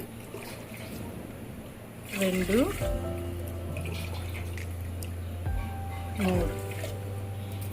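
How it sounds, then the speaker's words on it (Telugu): Water is poured from a glass into a cooking pot for ragi sangati, two brief splashing pours a few seconds apart, fairly quiet, with a person speaking around them in a home kitchen. "3 గ్లాసులు వాటర్ పోసుకోవాలి ఫ్రెండ్స్"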